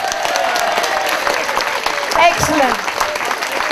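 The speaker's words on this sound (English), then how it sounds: "Thunderous round of applause." Audience applause for the Braemar Tiller Girls dance troupe at the end of their routine: a dense, steady wash of clapping that holds throughout, with a voice speaking briefly over it.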